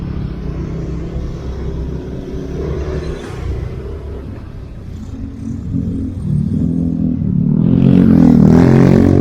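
A motorcycle on a touring ride in Bali is throttled hard, its engine roar and wind rumble swelling and dipping before climbing loudly toward the end, close and without voices.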